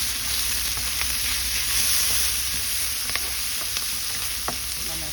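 Onion, garlic and tomato sauté in a pan for bitter gourd (ampalaya), giving a steady, close frying sizzle and hiss with occasional stirring scrapes and clicks, no voices.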